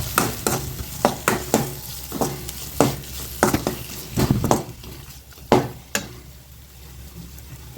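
Red chilli powder and kuzhambu chilli powder masala are sautéed in a pan for a dried fish thokku. A spatula scrapes in rhythmic strokes over a constant close sizzle, and the strokes thin out toward the end.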